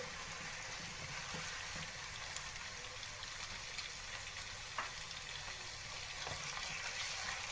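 Chicken pieces fry in oil in a karahi, giving a steady, dense sizzle and crackle that runs without pause, with a few faint clinks of stirring near the end and no talking.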